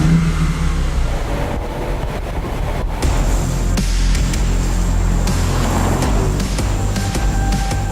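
A 2019 BMW i8 Roadster runs its engine in a steady, loud, sustained drone that holds near-constant through the whole stretch, with no voices over it.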